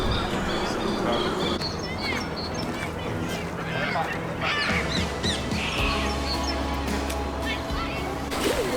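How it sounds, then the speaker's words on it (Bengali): Ducks and geese on the lake at Regent's Park, London, call out in scattered quacks, honks and squawks from several birds, with voices of people talking mixed into the busy outdoor background. "কত প্রজাতির হাঁস দেখা যাচ্ছে ওখানে"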